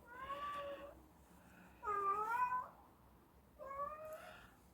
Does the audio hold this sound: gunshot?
no